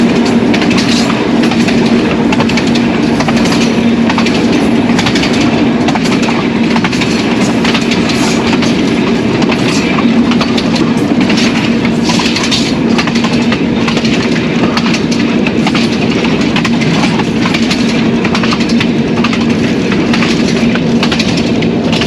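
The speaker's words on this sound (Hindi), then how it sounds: "वहाँ से थ्रू पास कर रहे हैं" A PHA-20 locomotive running through an abandoned Punjab station, heard from the cab as a steady loud rumble with rhythmic wheel clatter throughout.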